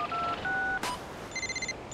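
A rapid sequence of telephone keypad tones, several distinct beeps in a row, with a brief burst of noise between them; fairly close and clear.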